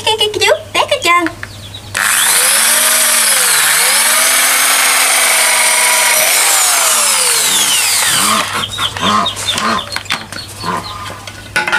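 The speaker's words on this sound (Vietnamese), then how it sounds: "Khoan vậy cho nó nhanh nha cả nhà." A power drill bores through fence material while a fence is built in a rural Mekong Delta yard. A loud, steady whine holds for about six seconds and rises and falls in pitch, with a voice heard before and after.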